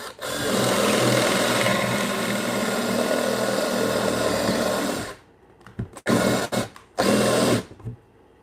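A drill drives a Forstner bit into timber for a bunk bed frame in a workshop, a loud steady grinding whir for about five seconds, then stopping and restarting in short bursts.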